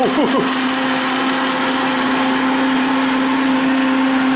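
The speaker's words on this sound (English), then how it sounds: "just blend it up like that" A blender runs continuously at a loud, steady pitch, whirring through oatmeal waffle batter with a constant motor whine and no break.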